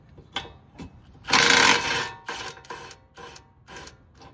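A wrench works the 19 mm bolts on a brake caliper of a Nissan 240sx, close by: a run of quick mechanical ratcheting clicks with a longer rasping burst in the middle and no talk.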